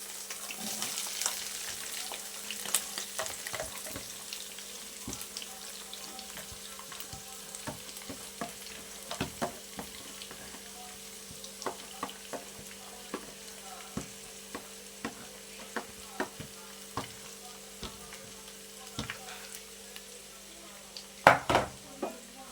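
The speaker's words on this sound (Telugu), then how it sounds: "ఇప్పుడు ఇందులో సన్నగా తరిగి పెట్టుకున్న ఉల్లిపాయలు వేసేస్తున్నాను." Thinly sliced onions fry in oil in a pan for an onion fish curry, a soft steady sizzle with frequent light clinks and scrapes of stirring, close and quiet throughout.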